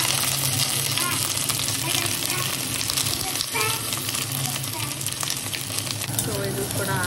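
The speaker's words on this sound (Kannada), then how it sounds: "ಇವಾಗ ನಾನು ಇದಕ್ಕೆ ಸ್ವೀಟ್ ಕಾರ್ನ್ ಹಾಕ್ತೀನಿ." Sweet corn frying in a pan of hot oil during a seasoning step for white cheesy pasta, a steady loud sizzle running the whole time with occasional stirring clinks and a faint voice underneath.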